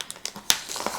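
Plastic craft packaging from Dollar Tree crinkles in a few quick, close bursts as it is poked open by hand, with one sharp snap in the middle.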